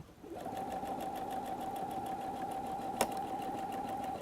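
A sewing machine back stitches along a seam of a messenger bag, a steady close mechanical whir starting after a brief pause and running continuously, with a single sharp click near the end.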